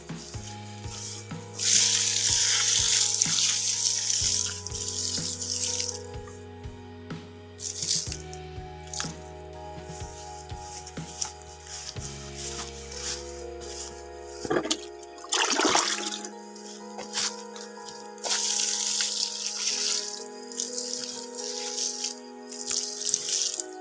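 Water pours and splashes from a barrel onto durian trees outdoors, a running, gurgling stream with trickles and a few rattles across much of the stretch.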